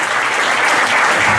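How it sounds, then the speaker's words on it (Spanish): A church congregation applauds during a sermon, a steady, dense wash of clapping from many hands that fills the room evenly throughout. "le damos un aplauso a Dios por él"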